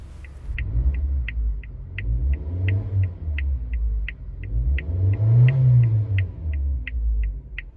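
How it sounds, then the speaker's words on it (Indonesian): A Suzuki Jimny 4x4 idles, heard from inside the cabin as a steady, smooth low rumble with mild swells. A faint, regular high ticking repeats about twice a second throughout. "Suara mesin terdengar halus ke dalam kabin dan tidak terlalu mengganggu."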